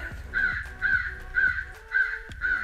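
An electronic crow call plays crow caws during a crow hunt outdoors. There are five evenly spaced, rough caws at moderate volume, with no talking over them.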